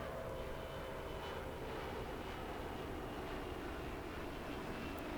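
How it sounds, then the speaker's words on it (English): A shuttle carrier aircraft carrying Space Shuttle Endeavour flies over, a faint, distant, steady jet-engine roar with broad rushing noise and no distinct peaks. "Breaking through a low cloud layer, here comes shuttle carrier aircraft."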